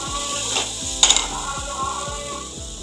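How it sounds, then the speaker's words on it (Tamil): Carrot poriyal with cumin, garlic and grated coconut gets stirred in a pan, giving a soft sizzle and a few scraping strokes, one louder clank near the start, with a low rhythmic mechanical ticking underneath. "ஜீரகம் பூண்டு சேர்த்து தட்டின தேங்காய் பூவை ஊற்றி ஒரு கிண்டிக்கோங்க."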